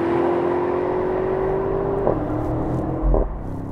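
A 2024 BMW M8 Competition Coupe pulls away, its engine note climbing steadily under acceleration, then a gear change drops the pitch before another brief surge, heard from inside the car.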